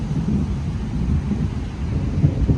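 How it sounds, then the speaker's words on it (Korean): Rain falls on a park with low rumbling thunder, a dense continuous wash of rumble and patter that stays fairly loud throughout with small swells, no voices present. "이렇게 천둥 번개도 치고 있습니다"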